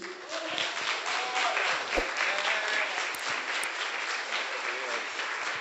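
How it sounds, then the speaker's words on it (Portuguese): Applause from a church congregation at the close of a sermon, a steady wash of clapping lasting throughout with some voices mixed in. "E as palmas louvam ao Senhor."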